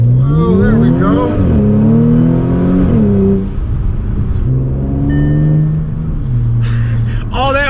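A B8.5 Audi S4 with an APR Stage 2 tune and dual pulley accelerates hard, its engine revving and climbing through gears with shift dips, heard loud from inside the cabin while occupants talk and exclaim.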